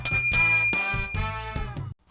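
A bright notification-style bell ding rings several times in quick succession, clear tonal strikes with ringing overtones, standing alone without speech.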